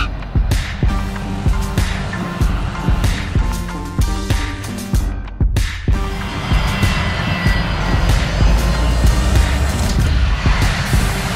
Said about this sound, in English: We're landing in Johor Bahru.